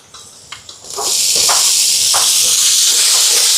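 Tomatoes tipped into a pan of frying green chillies, garlic and onion: a few soft taps, then a sudden loud, steady steam-like hiss that stays close and strong to the end.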